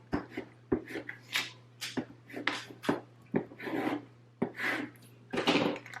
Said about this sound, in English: Flip it over and burnish on the other side.